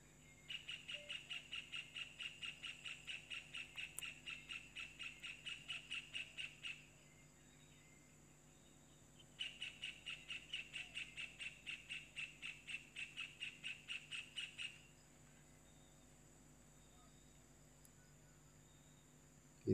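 Kingfisher (tengkek) calling outdoors, two long runs of rapid, evenly spaced shrill notes separated by a pause, moderately near against quiet ambience.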